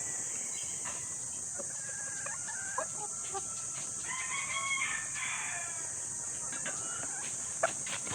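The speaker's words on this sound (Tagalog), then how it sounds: "Alagang manok ng kapatid ko." Farm chickens and a rooster in Tanay, Rizal, with the rooster's crow rising in the middle and clucks scattered around it, moderately distant over a constant shrill chorus of crickets and insects, with no talk.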